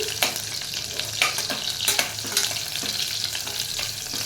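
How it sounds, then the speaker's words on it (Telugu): Onions fry with cashews in a pan, a steady close sizzle broken by repeated spatula scrapes and clacks at a loose, irregular rhythm. "ఆనియన్స్ వేసాను"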